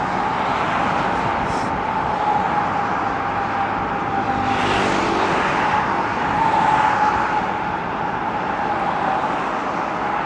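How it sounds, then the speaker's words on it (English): Cars pass over a grooved cement road on a busy new street in Zhaoqing, China, a steady tire roar with a high whistling tone running through it and vehicles swelling past midway. "It's an interesting noise these cars are making. A real whistling sort of noise on"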